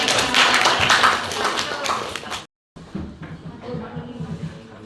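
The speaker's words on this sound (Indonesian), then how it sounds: "Oke, tepuk tangan." Classroom audience clapping after a school presentation, a brisk burst of many hands for about two seconds, then a short silence and quieter talk with scattered taps.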